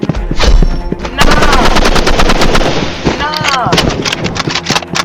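Automatic gunfire in the Roblox shooter Rivals: loud, close, rapid-fire bursts that rattle almost without a break, with a short pause between the first and second volleys.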